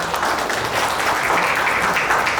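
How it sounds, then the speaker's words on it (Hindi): A hall full of guests at a company anniversary celebration breaks into loud, continuous applause, a dense wash of clapping close and steady. "प्लीज इनके लिए जोरदार तालियां हो जाए।"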